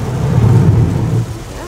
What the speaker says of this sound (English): crazy downpour